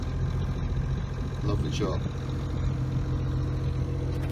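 A Jeanneau Sun Odyssey 379 yacht's inboard engine starts and settles into a steady low idle, a continuous rumble running the whole time beneath a man's brief spoken remark.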